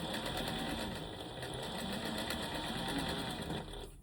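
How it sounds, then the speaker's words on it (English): A sewing machine runs steadily in a short test stitch along a six-panel skirt seam, a continuous close whirring hum lasting the whole few seconds with no talking over it. "So I can stitch just a little bit to check."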